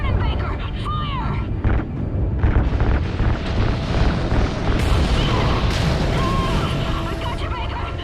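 Video game combat with continuous heavy gunfire and booming explosions, dense and loud throughout, with voices shouting over the noise.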